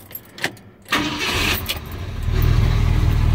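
A 1971 Ford F250 truck with a 360 V8 cranks with a few short bursts, then catches and settles into a steady, loud, close idle rumble.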